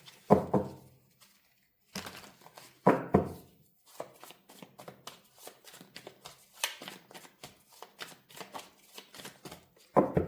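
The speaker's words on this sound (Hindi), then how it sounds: "तो ऑफकोर्स हम यहाँ से कार्ड्स पिक करते हैं।" A deck of tarot cards is shuffled and cards are picked for a reading. Crisp riffling bursts are followed by softer, scattered card slaps and flicks, all close and without talk.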